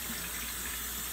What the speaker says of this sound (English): Just put a little water on the dome and see how we did